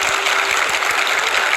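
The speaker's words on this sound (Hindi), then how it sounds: "जोरदार तालियां उनके लिए" Studio audience applauding a panel of five well-known editors on a Hindi political talk show, a dense steady wash of clapping that stays loud and even throughout with no pauses.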